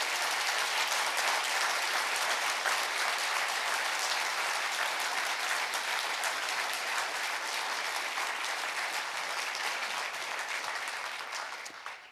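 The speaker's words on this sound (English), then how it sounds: "So one more round of encouraging applause." Sustained applause from an audience at a panel event on intelligence and the U.S. presidential election, a dense, even clapping that carries steadily for about ten seconds before tapering off at the end.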